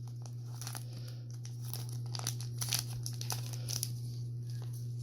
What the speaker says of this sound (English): tape around the pocket or the seal of the bag